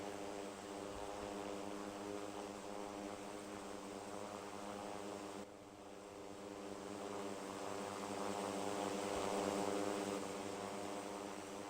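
Steady propeller drone of a QantasLink Dash 8 turboprop in flight within the Infinite Flight simulator, a continuous tonal hum with broadband airflow noise, swelling slightly louder toward the end, with no voices.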